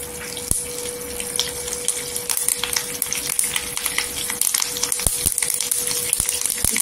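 Mustard seeds and curry leaves crackle in hot oil for a spiced sprouted moth bean curry, a steady close sizzle with scattered sharp pops and seed clicks.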